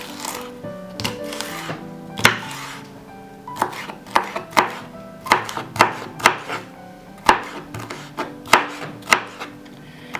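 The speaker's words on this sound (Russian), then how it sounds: "И теперь нарезаем перчик." A knife chops a bell pepper firmly on a cutting board, sharp irregular knocks in quick bursts, close and loud, with no talking.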